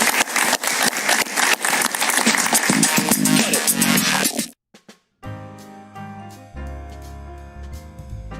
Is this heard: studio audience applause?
yes